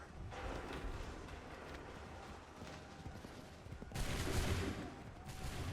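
Musket volley fire in Assassin's Creed 3, a sustained rumbling barrage of gunfire with a sharp, louder burst about two-thirds of the way through, no voices.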